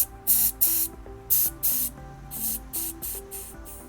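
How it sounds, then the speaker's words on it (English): Refrigerant gas hisses in repeated short bursts while the A/C system of a BMW M5 E60 is purged, about eight sharp loud spurts in an uneven rhythm over a faint background hum. "Okay, let's purge it now."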